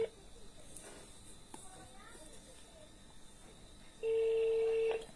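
A telephone ringing on a direct call gives a soft ring tone, then a loud steady tone sounds near the end. Voices and background chatter are faint underneath.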